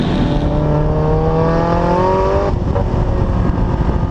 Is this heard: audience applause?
no